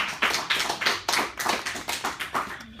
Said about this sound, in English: I think we need a round of applause for our three people sitting up front